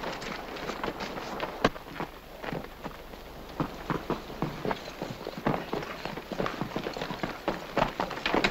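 Horse hooves clip-clopping on a dirt ranch trail in a 1937 western, a quick irregular run of thuds over a faint background hiss.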